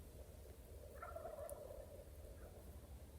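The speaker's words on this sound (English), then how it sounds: "there's at least 3 gobblers, I think 4, maybe more than that over there." Several wild turkey gobblers gobble from a distance on open public land, one faint rattling call rising briefly in the middle over a steady low wind rumble.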